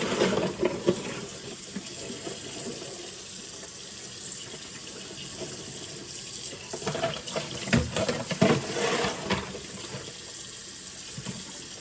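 A whole turkey being rinsed under a running kitchen tap before a Christmas roast: steady, close splashing water in a sink that grows louder and choppier toward the end, with no talking.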